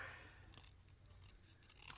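Scissors snip through paper while trimming a paper craft piece, a few soft close crisp cuts at low level with faint rustling.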